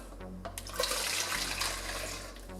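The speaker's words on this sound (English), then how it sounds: "Pour the water in." Tap water poured through a funnel into a plastic spray bottle, a steady close hissing splash that swells and holds for a couple of seconds with no talk.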